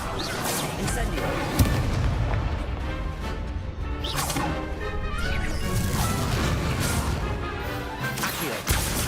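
Incendio fire spell cast in Hogwarts Legacy, a loud sustained burst of crackling, whooshing flame with heavy impacts and crashes running for several seconds.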